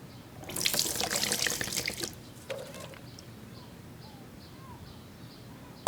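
Liquid being poured into a container, a splashing pour that runs for about a second and a half and then stops, followed by a brief clink, faint drips and soft bird chirps in a quiet room.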